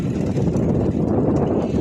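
Outdoor wind buffeting a microphone, a steady broadband rushing roar that stays dense and unbroken throughout, with no voices standing out.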